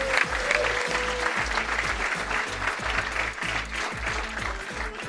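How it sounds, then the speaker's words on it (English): Comedy club audience at the Comedy Cellar in New York City's West Village applauding, a dense, continuous clapping from a packed room with a few cheers, steady and fairly loud throughout. "So give yourselves a round of applause."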